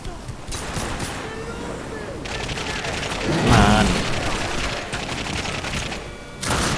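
Bursts of gunfire in The Darkness II, loud rapid shots and a heavier boom midway, mixed with a player talking excitedly over the action.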